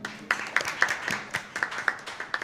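An audience at a panel discussion on military artificial intelligence, human rights and peace applauds the panelists: a short burst of fairly sparse, rhythmic hand claps heard from within the room.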